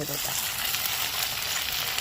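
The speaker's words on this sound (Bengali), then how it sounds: "রসুনটা দেখো ভাজা হয়ে গেছে এবার দিয়ে দিচ্ছি আদা আর কাঁচা লঙ্কা" Garlic, ginger and green chili fry in a pan with a loud, dense, continuous sizzle that holds steady and close throughout.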